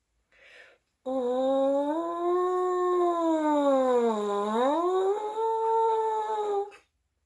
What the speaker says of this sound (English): you make sound by buzzing into the mouthpiece, like this